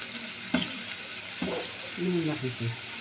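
Eggplant slices fry in a pan for a baked moussaka-style tray dish, a soft steady sizzle with a couple of stirring clatters near and moderately loud, while a voice speaks over it.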